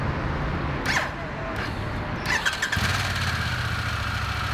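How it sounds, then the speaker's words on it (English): A Harley-Davidson Pan America Special motorcycle engine cranks and sputters, struggling to start, catching briefly before settling into a steady, close idle, with a squeal partway through. "showing you how the bike sometimes struggled to start its engine"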